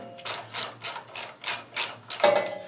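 Six quick ratcheting bursts in a steady rhythm, each a short metallic clicking rasp of a wrench loosening bolts on a lawn tractor, close up, with a final longer grinding turn.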